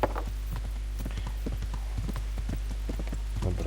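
Horse hooves clip-clop at a steady walking rhythm in medieval open-world game Kingdom Come Deliverance, close and distinct over a low constant hum, with someone talking faintly in the background.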